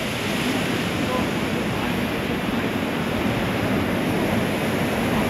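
Sea waves wash steadily on Galgibag beach during a release of baby Olive Ridley turtles, a loud continuous roar of surf with no breaks.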